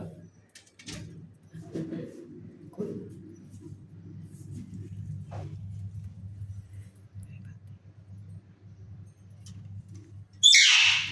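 A myna calls with scattered chirps and squawks over a low background rumble, ending in a loud, sharp burst; a person talks nearby.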